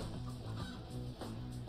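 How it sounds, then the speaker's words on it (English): A chicken clucks in the physics game Happy Room, a short run of rhythmic, mid-loud clucks over a steady game backdrop, with no talking. "Where'd that chicken come from?"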